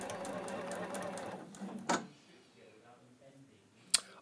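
Juki HZL-NX7 sewing machine sewing a seam, running in a rapid, steady stitching rattle for about a second and a half before stopping, followed by a couple of sharp clicks and a quiet room with faint speech.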